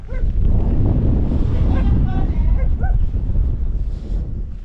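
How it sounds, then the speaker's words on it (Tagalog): Strong gusting wind on the summit of Mt. Timbak buffets the microphone in a continuous roar, with faint voices briefly audible beneath it. "Umiihip yung hangin"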